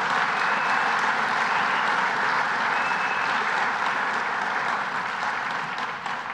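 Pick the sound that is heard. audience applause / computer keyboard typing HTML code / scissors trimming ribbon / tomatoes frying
audience applause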